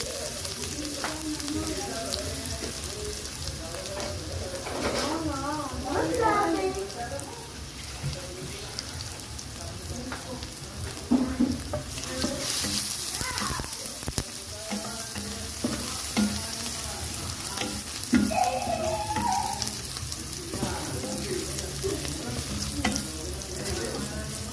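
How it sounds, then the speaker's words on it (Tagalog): Garlic sizzles and crackles in hot oil in a pan during a crab dish, a continuous close frying hiss with occasional stirring and a brief voice in the background. "Igisa natin yung ating garlic."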